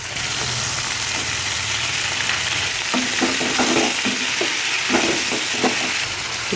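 Chicken fries uncovered in a pan over high heat, a steady loud sizzle throughout with occasional scraping and stirring taps from a utensil, no voices.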